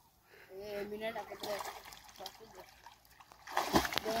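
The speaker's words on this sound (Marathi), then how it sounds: "एक नंबर थोडं पाणी उडला, पण खतरनाक उडी टाकली" People talk over quiet watery sounds before a boy jumps into dam water, landing in a sudden loud splash near the end.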